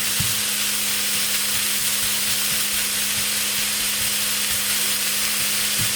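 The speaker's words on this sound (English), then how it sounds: "fry the onion and the carrot" Onion and carrot frying in a pan for borscht, giving a steady close sizzle and hiss with a low hum underneath, continuous and unbroken, no talking.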